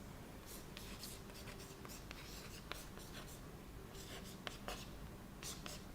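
Marker or chalk scratches and taps on a classroom board as a light-year value is written out, in short strokes and scrapes over a low background hiss, with a faint voice nearby.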